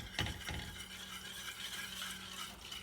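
Lemon juice is whisked into sugar and flour in a bowl, a soft rapid scraping and rattling of the whisk with a couple of sharper taps early on, quiet and close with no talking.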